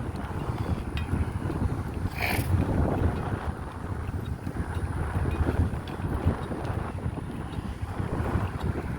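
Wind buffets the microphone during an outdoor ruck walk, a constant close, rumbling roar with gusts that swell and ease, and no talking.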